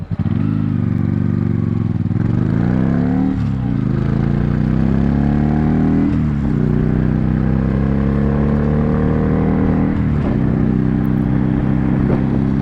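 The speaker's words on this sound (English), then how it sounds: "the exhaust is like just a little bit too loud" Loud motorcycle exhaust roaring continuously, with repeated revs rising and falling every few seconds, close up and dominating throughout.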